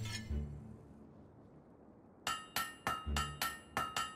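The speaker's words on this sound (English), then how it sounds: "Great hammer work there." Metallic hammer strikes ring out as a blade is forged on an anvil in the Fable 3 video game, about eight sharp, evenly spaced clanging blows, loud and close, after a quiet stretch with a couple of duller knocks.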